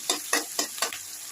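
Mustard seeds, curry leaves and dried red chili sizzle in white oil in a pan, with about five quick, evenly spaced stirring scrapes over a soft, steady frying hiss, close and fairly quiet.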